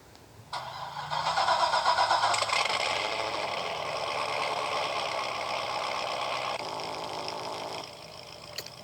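A 2009 Corvette ZR1 engine in the game Driving Empire starts up and revs loudly, holding a steady roar before tapering off; a synthetic, game-like engine sound with no talking.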